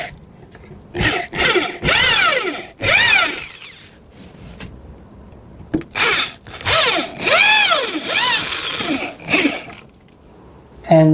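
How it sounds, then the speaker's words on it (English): An electric drill revs up and down in repeated short bursts, its pitch rising and falling as it bores a screw hole in a wooden chair, with brief quiet gaps between runs. "we need to use a electric drill, make a hole for the screw"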